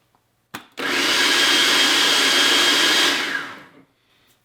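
A food processor grinds white chocolate ingredients in a steady, loud, continuous whir lasting about three seconds, then spins down, with a brief click before it starts.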